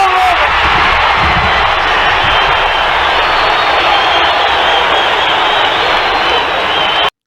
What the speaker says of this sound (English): Crowd going berserk.